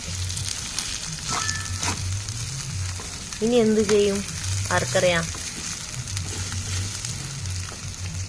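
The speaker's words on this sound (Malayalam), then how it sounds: "ജസ്റ്റ് കഴുകി തിളച്ച എണ്ണയിൽ റൈസ് എടുത്തിട്ടു" Washed rice frying in hot palm-based oil somewhere in La Mosquitia, Honduras, a steady close sizzling hiss that runs through the whole clip while someone speaks over it.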